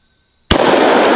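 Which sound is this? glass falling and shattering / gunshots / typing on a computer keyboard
gunshots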